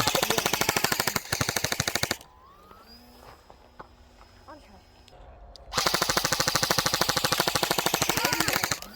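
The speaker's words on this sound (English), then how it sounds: "You can shoot at it while it's coming towards us too, Aiden." Airsoft gun fired in rapid automatic bursts at a 3D printed RC Sportster after dark, two loud sustained volleys of fast, evenly spaced shots separated by a quieter pause with faint background sounds.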